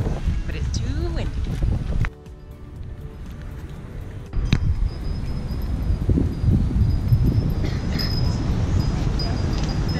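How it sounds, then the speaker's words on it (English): Strong wind buffets an outdoor spot near a temple in Phnom Penh, a steady broadband roar with a brief lull midway, loud and continuous throughout with no clear speech. "It's too windy."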